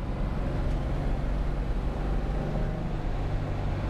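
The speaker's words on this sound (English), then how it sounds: "There we are at idle again. The idle's nice and steady." A Porsche 356 engine fitted with Solex 40P11 carburettors idles steadily, giving a constant, dense low rumble with no rise or fall across the few seconds and no voices.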